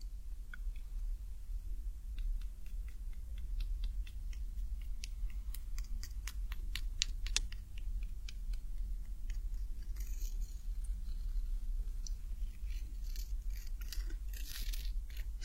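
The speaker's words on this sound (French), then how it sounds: "Vous avez entendu le son croquant." Crunchy snacks being bitten and chewed up close during an ASMR tasting, a long series of crisp crackling crunches over a low background hum, with louder crinkly bursts in the second half.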